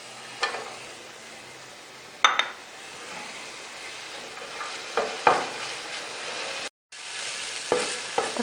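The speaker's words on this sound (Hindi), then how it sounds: "इसी में 1 खाने का चम्मच हम ऑयल शामिल करेंगे, जिसमें हमने गाजर की है। किशमिश फ्राई कर लेते हैं।" Raisins frying in a tablespoon of oil in a pan for Afghan Kabuli pulao, a steady soft sizzle with occasional clinks and stirring scrapes of a spoon against the pan, no talking.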